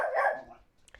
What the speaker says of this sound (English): But she is barking